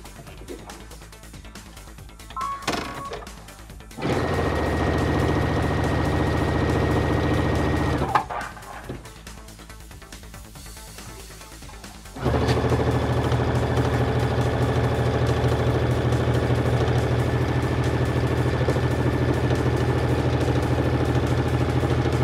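A sewing machine stitches a half-inch seam through folded fabric while making continuous bias binding, running in two steady bursts of mechanical whirring with a short pause between them.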